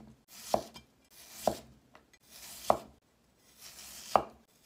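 A knife chops diagonally through peeled Chinese yam on a cutting board, four sharp, evenly spaced cuts landing about a second apart, close and clear with no talking.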